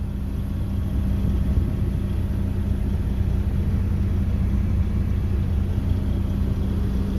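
A 2012 Volvo truck engine runs nearby with a steady, low, heavy rumble that stays even throughout, with no talk.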